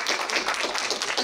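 Audience applause at a live talk event with actor Hwang Jung-min, a short burst of dense, steady hand clapping from a small crowd, close and even with no talk over it.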